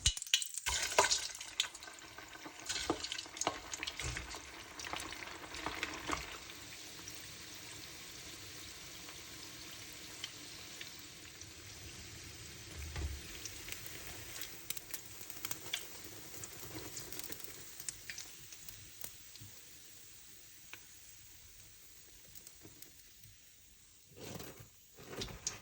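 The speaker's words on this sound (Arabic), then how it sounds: "وبس يحمى الزيت كلش زين نبدي بالقلي." Rice kibbeh frying in deep hot oil in a pan gives a steady, soft sizzle with occasional stirring knocks, fading quieter toward the end.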